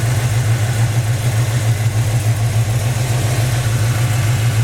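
A 1970 Chevy Chevelle Super Sport with a 396 V8 idles close up, giving a loud, even, pulsing low rumble that holds steady throughout with no voices.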